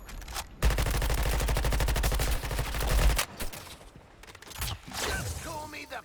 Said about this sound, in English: I'll pitch in on the shooting with you, Shark.